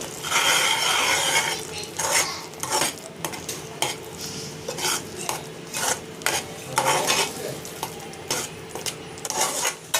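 A spoon stirs spices such as red chilli powder and homemade Malvani masala into tomato puree in a pan over low heat, giving repeated scraping clatters against the metal under a soft, steady sizzle.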